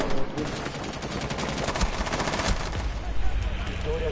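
Rapid bursts of automatic gunfire in a video game crackle over a dense, noisy background, the shots coming in quick rattling volleys.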